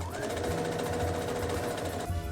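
A sewing machine stitches the side seams of a Linden sleepwear set. The motor runs with a fast, steady needle chatter, then changes pitch briefly near the end.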